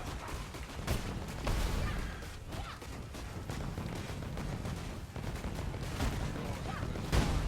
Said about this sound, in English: does he have like some sort of corpse explosion thing?